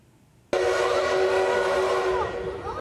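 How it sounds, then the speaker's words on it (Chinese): The whistle of the King steam locomotive sounds as it pulls into a station during a Changhua rail event. After a quiet start, a loud sustained shrill blast begins abruptly and holds for over two seconds before tapering slightly. "火车拉鸣汽笛，"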